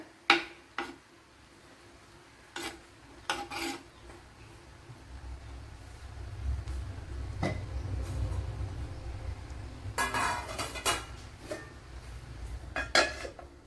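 A spoon stirs beetroot thoran with grated coconut in a pan, making sporadic metallic clinks and scrapes against the pan over a low steady background rumble, close and moderately quiet, with no voices.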